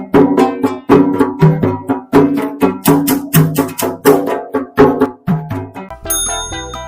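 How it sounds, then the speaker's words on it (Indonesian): A ganda, a small traditional hand drum from Gorontalo and Central Sulawesi, plays a quick busy rhythm of many sharp struck hits, bright and close, with a ringing bell-like chime at the end. "Ganda, atau kanda, adalah alat musik tradisional jenis pukul berupa gendang kecil yang berasal dari Gorontalo dan Sulawesi Tengah"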